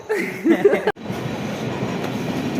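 A train rumbles along steadily, its broadband noise filling the clip after a brief sharp cutout near the start, with faint voices early on.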